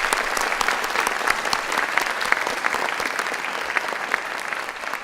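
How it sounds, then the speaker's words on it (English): Steady, dense applause from a lecture audience at an evening event, many hands clapping continuously at close range and holding an even level throughout, with no voices over it. "Let's give them a round of applause."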